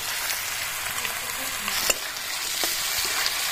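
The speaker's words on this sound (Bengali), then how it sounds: "সবসময় পেঁয়াজ আলুটা ভালো করে ভেজে নিতে হয়" Onions and potatoes frying in hot oil give off a steady, close sizzle with light crackling throughout and occasional soft stirring clinks.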